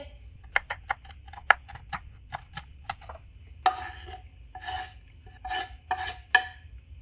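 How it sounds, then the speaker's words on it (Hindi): Knife slicing three green chilies on a cutting board in a home kitchen, a series of sharp, close taps at first, then softer scraping and rasping cuts, with no talking. "अब यहाँ पे 3 ग्रीन चिली ले लिए, ये भी हम काट लेंगे।"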